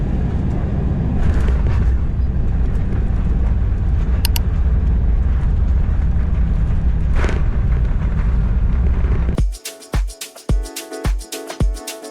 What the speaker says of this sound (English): While we're taxiing to the gate